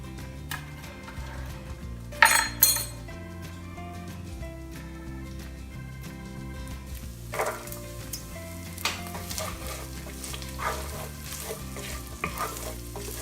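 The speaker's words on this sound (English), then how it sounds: "Now I'm gonna add the carrots first only because the carrots take longer to cook than the onions, the celery, and the jalapeno." Carrots fry in a pan with onions, celery and jalapeno waiting to go in, giving a continuous crackling sizzle, punctuated by loud bursts of scraping and stirring at irregular intervals, close and with no talking.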